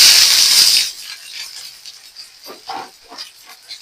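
Chopped leafy greens dropped into hot oil give a loud burst of hissing sizzle that quickly dies down to softer, scattered crackling and popping close by.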